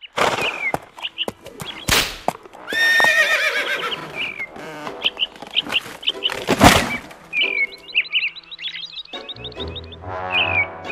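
A horse in a video game whinnies loudly several times while straining to pull a tree, with thuds, whip-like cracks and bird calls mixed in.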